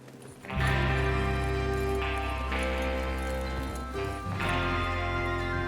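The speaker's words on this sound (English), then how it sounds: "Get your horses ready." Steady clip-clop of horse hooves trotting in Red Dead Redemption 2 over a loud, continuous bed of music, with a brief dip midway before the rhythm resumes.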